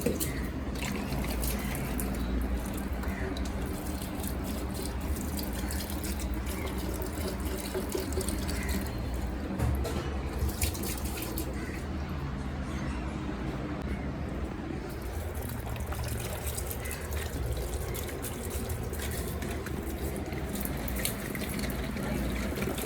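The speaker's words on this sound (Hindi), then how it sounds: "तो आज मुझे बहुत दिनों बाद पानी डालने का मौका मिला।" Water poured from a hose or tap onto potted garden plants and a climbing vine at home, a steady continuous splashing and trickling that stays close and fairly loud throughout.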